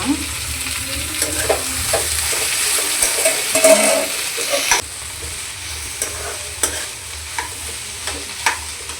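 A ground paste being fried in a pan for tondekai (ivy gourd) palya, a close continuous sizzle with repeated stirring scrapes and clinks of a spoon against the pan, no voices.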